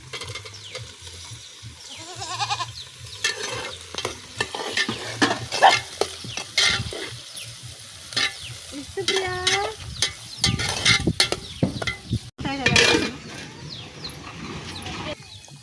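Tomatoes, onions and green chillies frying together in a pan, a steady sizzle with repeated stirring scrapes and clatters close by; no talk over it.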